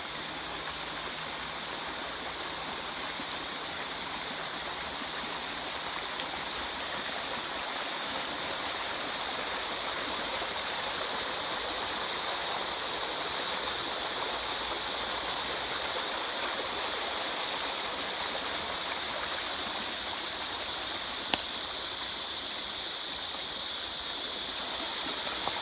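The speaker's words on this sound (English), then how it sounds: "It's the sounds of running water and nature, our music to your ears." A creek on a riparian property near Sedona, Arizona runs steadily, giving a continuous broadband rush of flowing water that stays even and close for the whole stretch, with no voices.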